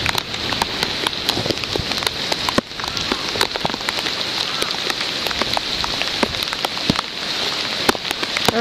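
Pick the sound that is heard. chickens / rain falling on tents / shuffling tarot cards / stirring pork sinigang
rain falling on tents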